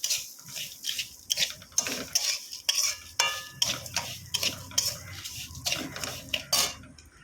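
Spoon scraping and clinking around a pan of sugar and water for rasa paratha syrup, a steady run of rhythmic metallic strokes close up with a low simmering bed beneath and no talking.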